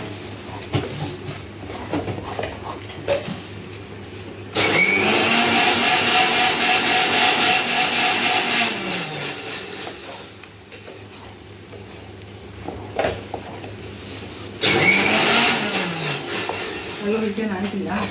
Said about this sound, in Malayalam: അത് കിട്ടാത്തതുകൊണ്ട് ഒന്ന് മിക്സിയിൽ അടിച്ചെടുത്തുകൊണ്ട് വരാമെന്ന് ഇച്ചിരി വെള്ളം ഒഴിച്ച്